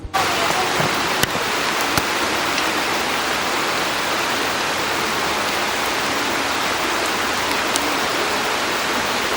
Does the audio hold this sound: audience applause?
no